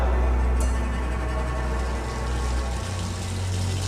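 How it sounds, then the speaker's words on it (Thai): Steady running water in an animated 3D Thai ghost story, a continuous close gush like a tap or leak in an apartment bathroom, with a low rumble shifting partway through. "ได้มีเสียงน้ำไหล และประตูห้องน้ำเปิดออก"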